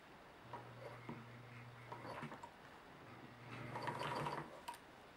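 A sewing machine stitches along the original seam of a pair of jeans while a zipper is replaced, humming quietly in two short runs of about a second or more each, with light handling sounds between them.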